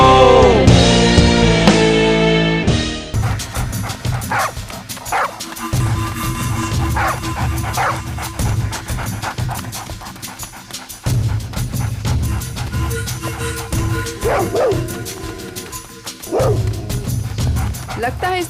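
A police dog in a Hindi crime drama barks and yips repeatedly in short bursts, with whimpering cries mixed in, after a brief stretch of music, while people talk around it.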